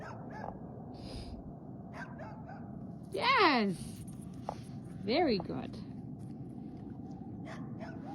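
Dogs bark in two short loud bursts a couple of seconds apart, close by, with a person speaking praise between them in a quiet room.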